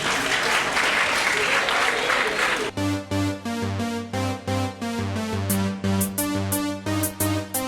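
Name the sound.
audience applause at school festival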